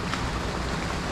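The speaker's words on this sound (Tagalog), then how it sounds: "Sumobra naman yung ulan." Heavy rain pours onto an ampalaya bitter gourd field at harvest time, a steady, soft, even hiss of falling water heard alone for a brief moment.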